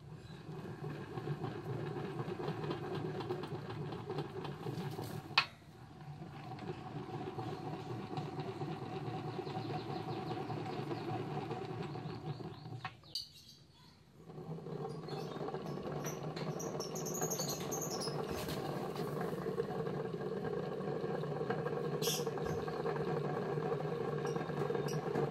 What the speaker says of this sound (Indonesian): Kita bandingkan suara kruk as ketika diputar dengan mesin GL100.